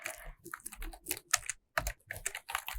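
Quiet, irregular tapping of keys on a computer keyboard, bursts of keystrokes with short pauses between them, close and faint, during a lesson building a first AngularJS web application.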